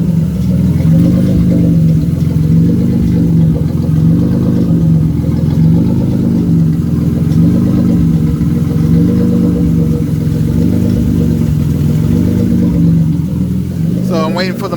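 A turbocharged BMW E36 with a custom exhaust runs at a loud, steady idle, its low rumble pulsing evenly throughout, with someone talking over it.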